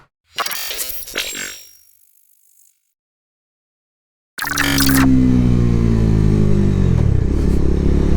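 A short mechanical rattle, then silence, then a motorcycle engine starts up loud and close, idling and revving with a rough, throbbing drone.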